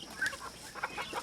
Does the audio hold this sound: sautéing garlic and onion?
no